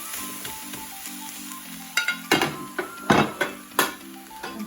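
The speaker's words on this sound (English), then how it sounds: "So what you do is you put your meat inside the pot." Lean ground turkey meat sizzles and fries in a pot, with a steady crackle that swells into several loud bursts as the meat is stirred and scraped around, close up and with no talking.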